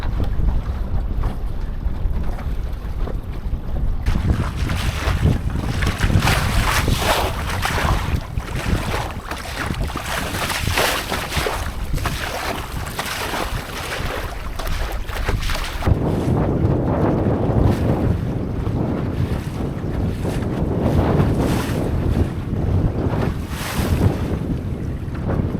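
A Drascombe Lugger sailboat pushes through waves in strong wind, with a loud, constant roar of wind buffeting the microphone and sloshing water against the hull throughout.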